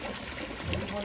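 Water pours from a bowl held by a fountain statue into a garden pond, a steady splashing trickle close by and continuous throughout.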